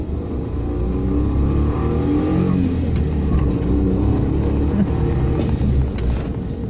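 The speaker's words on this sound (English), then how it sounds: "now we are driving this Suzuki Jimny" A Suzuki Jimny 660cc small SUV drives along a road, heard from inside the cabin as a loud, continuous engine drone with a low rumble and slight rising revs, with no talking.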